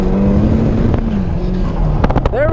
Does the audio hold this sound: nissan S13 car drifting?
yes